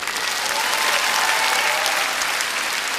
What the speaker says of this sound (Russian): Вы, естественно, аплодируете.